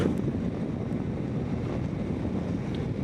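Strong wind buffets the microphone while riding an MV Agusta Veloce motorcycle, producing a continuous loud low rumble and flutter with no voices.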